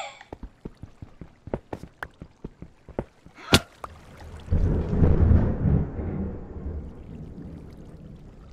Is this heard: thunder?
yes